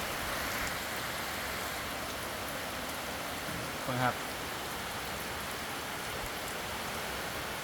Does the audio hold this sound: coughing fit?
no